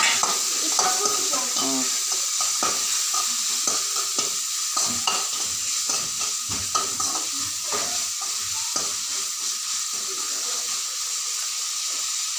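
Steady sizzling in a pan with repeated scraping and clinking as onions and tomatoes are stirred, close and continuous throughout.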